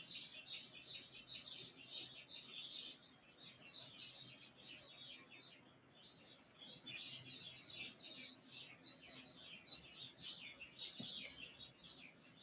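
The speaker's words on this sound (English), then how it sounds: "Birds outside." Birds chirp outside in quick, busy bursts of high tweets that come and go across the whole stretch, fairly faint and set against a quiet background.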